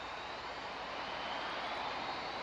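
A SpiceJet Boeing 737 MAX 8 in Real Flight Simulator runs its engines at takeoff thrust on departure from Chennai, giving a steady, loud, broadband jet roar with no other sounds.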